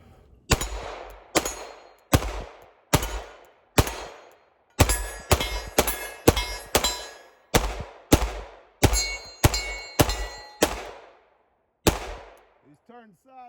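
A Glock 17 pistol fed from a 20-round Magpul magazine fires about twenty loud, sharp shots at an outdoor range. The shots come in uneven bursts, and each crack rings out with a short metallic tail and clanging hits on steel targets.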